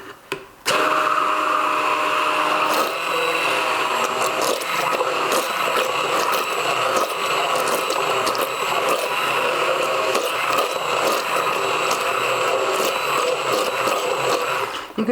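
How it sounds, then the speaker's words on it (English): A stick blender mixing homemade hot-process liquid laundry soap in a bowl set in a sink, running as a loud continuous whirring drone for most of the stretch after a brief start. "you don't want to have your stir blender going non-stop because you don't want to burn the motor out"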